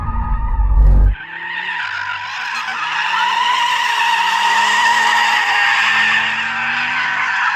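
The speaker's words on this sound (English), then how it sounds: "Let's warm up the tyres." Tyres on a performance car, one of an Audi RS3, AMG A45, BMW M2, Porsche Cayman GTS or VW Golf R, squeal loudly in a sustained skid during a warm-up, with a wavering high screech that follows a brief low engine burst.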